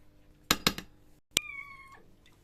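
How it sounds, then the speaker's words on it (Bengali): A cat meows once, clear and fairly close, after a few sharp clattering knocks, in an otherwise quiet room. "বিল্লু, ওটা বিড়াল"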